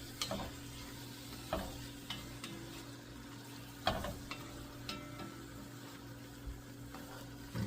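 A pan of French onion soup simmers while alcohol cooks off, giving a quiet steady sizzle and bubbling with a few light ticks and taps scattered throughout and no talking.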